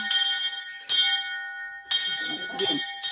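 Church bells rung by hand, several loud metallic strikes at irregular intervals with long shimmering decays, close and clear, with a brief murmur of voices partway through.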